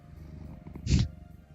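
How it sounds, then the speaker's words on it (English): A deep cat purr in a visual novel video game: a short, low rumbling growl-like burst, close and moderately loud, set against a faint steady background hum. "Damn, that is one deep purr."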